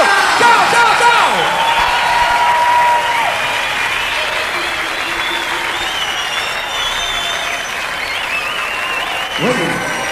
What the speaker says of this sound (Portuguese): bote a mão pra cima e bata um bocado de palmas